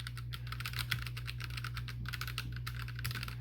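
Fast continuous typing on a MageGee MK-Box 60% mechanical keyboard with red switches, close and crisp clacking with a steady low hum underneath.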